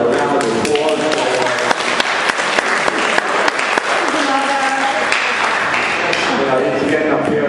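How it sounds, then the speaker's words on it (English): A room of people at a club's general meeting breaks into a round of applause, dense clapping that runs throughout with a few sharper claps and some voices underneath. "a little round of applause"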